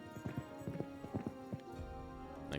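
Steady hoof clip-clop from a horse piece in a board video game, a dozen or so quick hollow knocks in an even trotting rhythm over a soft musical backdrop, ending with a brief bright flourish.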